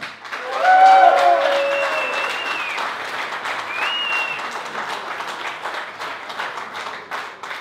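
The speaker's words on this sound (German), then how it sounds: "Ihr Applaus sicherlich auch für den Gast" An audience at a post-match football press conference for VfB Germania Halberstadt against 1. FC Magdeburg bursts into applause, peaking quickly and then carrying on as steady, fairly loud clapping that slowly thins out.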